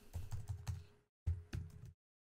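Typing on a computer keyboard during an Unreal Engine 4 tutorial: two quick close bursts of keystrokes, several clicks each, separated by a short silent gap.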